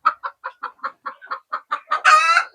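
Free-range country hens cluck in a quick, regular run of about a dozen short clucks close by, ending in a longer drawn-out squawking call.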